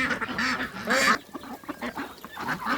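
A group of ducks quacks in loud, repeated bursts while they feed, with several overlapping calls close by and a louder cluster of calls about a second in.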